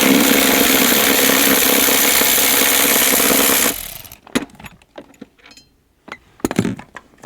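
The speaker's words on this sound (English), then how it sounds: "So now we're going to remove the battery hold down." A loud power tool whirs continuously for several seconds while removing the battery hold-down on a Mercedes GL450, then stops, leaving sharp metallic clinks and rattles of parts.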